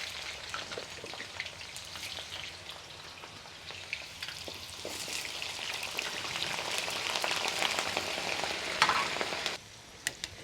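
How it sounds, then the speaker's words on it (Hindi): Potatoes for biryani frying in a pan with a dense, steady crackling sizzle that builds louder toward the end, then cuts off abruptly, followed by a couple of faint clicks. "अब इसमें हमने आलू को फ्राई करनी है"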